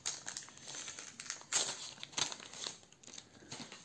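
Close, quiet tearing and crinkling of foil wrapping as a Minecraft Panini trading-card premium pack holding 24 cards is ripped open, with several sharp rustling bursts over about four seconds and no talking.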